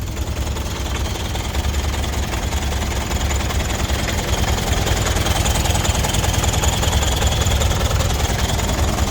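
A four-cylinder car engine idles steadily at close range, a continuous low rumble with an even mechanical chatter and no voices.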